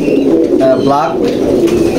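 Pigeons in a loft coo close and loud, a short low burbling call over a busy background, with someone speaking alongside.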